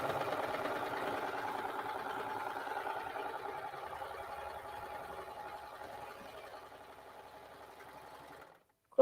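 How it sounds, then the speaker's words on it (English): A Baby Lock serger stitches fleece with its blade trimming the excess, giving a fast, even mechanical whir that runs steadily for several seconds, fades slightly, then cuts off abruptly near the end. "Yeah, no changing anything, just sewing."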